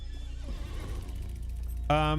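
In the video game Lord of the Rings Online, hooves clip-clop as a horse walks, then a loud, close whinny bursts out at the end, with a voice talking underneath.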